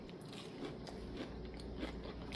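Crispy golden-brown breaded flounder nuggets dipped in tartar sauce crunch under repeated close bites, a steady run of crackly chewing alone with no talk.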